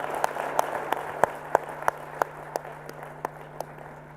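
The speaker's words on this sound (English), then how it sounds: "Let's have some applause for their contributions." Sparse, faint applause from an audience thanking panelists at a disaster resilience event, a few scattered claps spaced out at a slow uneven rhythm over a steady low hum.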